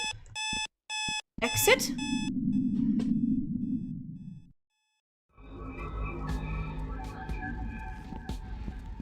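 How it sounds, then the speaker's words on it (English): A repeating electronic alarm beep from the Sally Face video game pulses in short bursts at the start, then gives way to a low droning rumble and other game sounds as a voice speaks briefly. "That alarm noise is doing my head in!"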